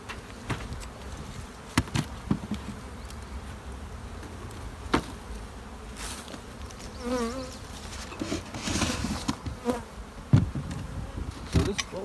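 Honeybees buzz steadily around beehives during hive equalizing, a dense continuous hum with individual bees droning past up close and occasional knocks and clicks of hive equipment.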